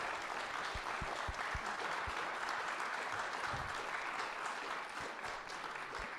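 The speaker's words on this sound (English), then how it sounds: "Let's give a big round of applause to the judge candidates." Sustained applause from an audience at a primary-election candidate forum, steady and moderately loud with a few sharper claps standing out, no speech over it.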